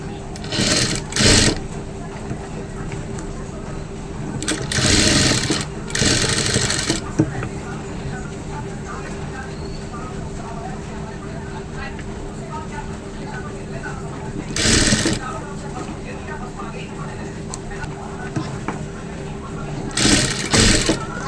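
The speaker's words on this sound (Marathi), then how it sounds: "सध्याची मी ते स्टिच लावते आणि मी नंतर ही स्टिच काढून टाकणार प्रेस करून झाल्यावरती." A home sewing machine stitching a one-piece dress runs in a steady close whir, broken by several brief louder bursts, with someone talking over it at times.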